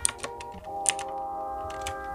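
Keys on an RGB computer keyboard are pressed, with several sharp, close clicks spaced irregularly over a steady background hum.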